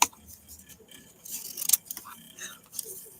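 Scissors snipping through paper in a few irregular close cuts, a crisp sharp snip standing out midway, amid soft rustling as the paper is trimmed down to a small size for making a little book.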